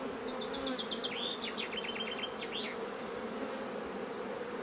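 Honeybees drone in a dense, steady, close hum at an opened beehive full of brood. A bird's quick trilling chirps ring out above the buzz for a few seconds.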